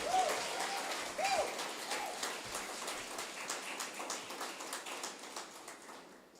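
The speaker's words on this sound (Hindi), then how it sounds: "ताली बजाएं उसकी महिमा के लिए।" A church congregation claps its hands in praise after a pastor's call, a dense, steady patter of many hands that stays fairly even and slowly thins toward the end, with no clear talk over it.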